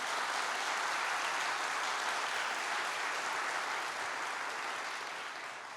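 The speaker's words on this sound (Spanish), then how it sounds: "Si le va a aplaudir, apláudale fuerte al Rey" A church congregation applauds loudly during a sermon, a dense wash of many hands clapping together at a steady level before easing off slightly near the end, with no voices heard over it.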